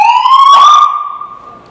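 A short, loud police motorcycle siren wail rising in pitch and then fading off, heard close by with no talking.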